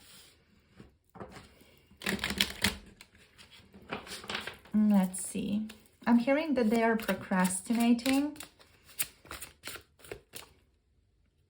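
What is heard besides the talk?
shuffling tarot cards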